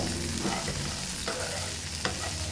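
Onions and masala frying in a pan for mushroom pulao, a dense close sizzle with two sharp spoon scrapes partway through, no talking.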